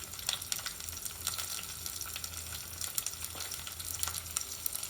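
Green chilli slices and ginger garlic paste fry in oil with browned onions for masala dal, a steady close sizzle with crackling pops and occasional stirring scrapes, and no talking.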